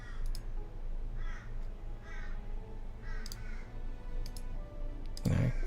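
Several crows caw from a distance in short, spaced bursts against a quiet, steady background hum, with a sharp click near the end.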